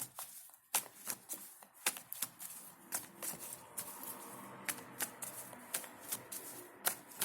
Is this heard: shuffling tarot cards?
yes